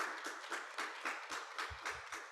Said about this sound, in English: I want to give a round of applause to our panelists here again